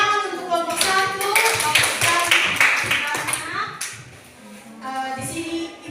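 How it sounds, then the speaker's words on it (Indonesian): Classroom applause for a student group in a junior high lesson, a burst of claps from several children lasting a few seconds and tapering off, with speech-like voices and harmonic tones mixed in over it. "Tepuk tangan untuk kelompok 1."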